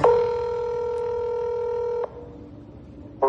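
A recorded phone call opens with a loud, steady dual-tone dialing beep lasting about two seconds, followed by a quieter hum and the start of another tone.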